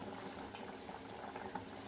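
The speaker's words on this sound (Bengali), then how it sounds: "আমার মাছটা ফুটছে বেশ সুন্দরভাবে ফুটছে" A thin pangas fish curry boiling in a pot, a low, steady bubbling simmer heard close up and quietly, with no talking.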